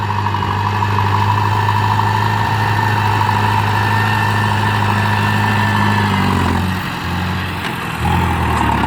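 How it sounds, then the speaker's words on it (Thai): A Ford TS 90 round-nose tractor engine runs steadily without load, a loud, even idle with a deep low hum and constant rumble, shifting slightly near the end. "เสียงเครื่องไม่มีโหลดไม่มีตกเลยครับ สม่ำเสมอ"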